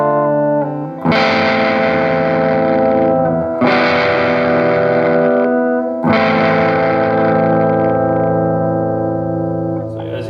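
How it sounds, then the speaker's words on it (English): An electric guitar runs through a RAT distortion clone pedal at minimal gain into a small tube amp, with three loud strummed chords each ringing out and slowly decaying, lightly broken up and sustained. "here's what it sounds like just with minimal distortion."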